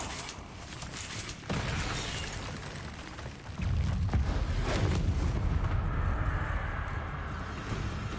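Confringo, the explosive spell in Hogwarts Legacy, goes off as a deep, rumbling blast mid-clip amid other spell effects, with a sharp crack earlier and a broad roaring wash that slowly fades.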